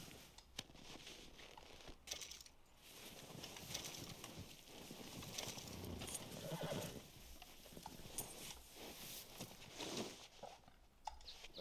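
A White Arabian horse in Red Dead Redemption 2 whinnies among clopping hooves and soft rustling, fairly quiet and with no voices over it.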